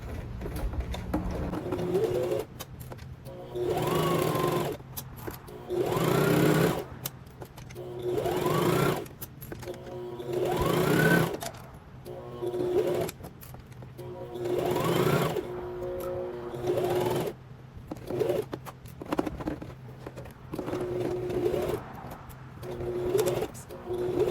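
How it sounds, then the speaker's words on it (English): A domestic sewing machine with a zipper foot stitches around a pajama set in repeated bursts of steady whirring, stopping and starting every few seconds, close and moderately loud. "With my zipper foot in place, I'm ready to stitch all the way around."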